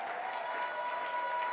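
A church congregation applauding and cheering together during a worship service, a dense, steady wash of clapping and crowd noise that holds at the same level throughout, with no single voice standing out.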